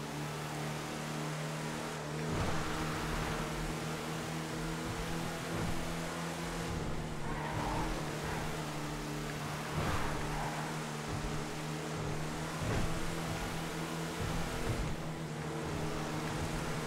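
Racing truck engines roar in the video game GTA FiveM, a continuous droning hum with steady tonal lines and periodic surges as the trucks speed through corners, loud and unbroken.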